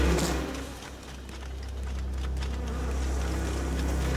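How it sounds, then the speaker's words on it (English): A low, continuous drone of swarming bees in the video game Ghost of a Tale, steady and fairly loud, alone without talk. "why are there gotta be so many bees?"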